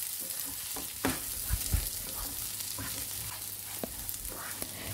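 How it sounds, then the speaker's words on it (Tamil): Onions and mint sautéing in oil for tomato rice, a constant hissing sizzle close up with intermittent stirring scrapes and a few dull knocks of the spoon on the pan. "புதினா இதில் சேர்த்துட்டு அதோடய நல்லா மிக்ஸ் பண்ணி விட்டுக்குவோம்."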